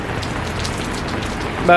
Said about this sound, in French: J'ai pas besoin de vous dire comment il pleut